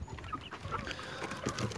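Hens cluck softly in a coop where eggs are collected, with low, faint murmuring calls scattered over a quiet background.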